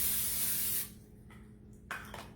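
Cooking spray from an aerosol can misted over the top of a meatloaf, one steady close hiss lasting under a second, then fading to a quiet room with faint clatter.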